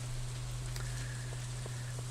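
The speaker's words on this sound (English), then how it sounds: "It is raining" Rain falls steadily in Stardew Valley, a soft continuous hiss of drops with a few faint ticks over a constant low hum, no voices.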